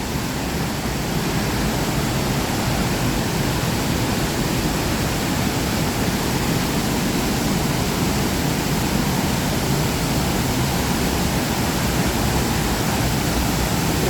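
Pla Ba waterfall in Thailand, swollen with muddy red rain runoff, roars steadily and loudly, a dense unbroken rush of water with no pauses and no voices.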